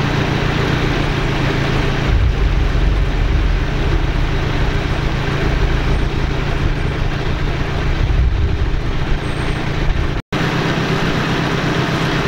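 A tractor engine rumbles loudly and steadily as it pulls a rope through a pulley rig on a woodland homebuilding site. The low drone runs nearly unbroken, with a momentary dropout near the end.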